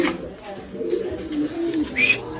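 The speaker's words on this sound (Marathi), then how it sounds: "एक नंबर कबूतर आहेत भारी भारी" Pigeons cooing inside a loft of fancy pigeons, a steady chorus of low rolling coos close by, with a brief higher call near the end.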